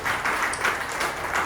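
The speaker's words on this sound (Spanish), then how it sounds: "Denle un aplauso al Señor." A church congregation applauds with dense, steady clapping throughout, moderately loud and sustained.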